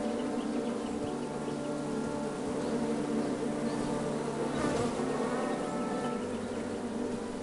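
A dense, steady buzz of bees from the King's Quest video game fills the whole stretch, close and loud with no pauses.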